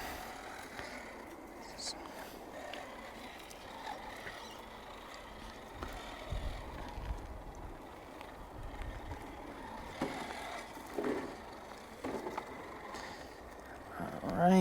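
RC crawler truck, a Traxxas TRX4 Bronco or Redcat Gen8, grinding over rough rocky terrain and briefly hanging up on its belly, with low motor whine and scrabbling tires under steady outdoor background noise.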